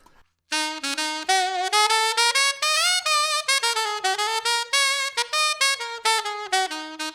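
A melodic jazz improvisation line played on a single instrument in swung eighth notes, a continuous run of clear pitched notes with short articulations, close and alone without accompaniment.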